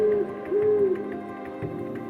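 A barn owl calls in a Rocky Mountain wilderness: two drawn-out, tonal hoots, the second longer, then quieter trailing calls, fairly close and with no voices.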